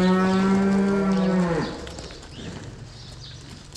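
A cow on a Westerwald farm gives one long, loud, close moo that swells and then slides down and fades, leaving quiet outdoor farm background.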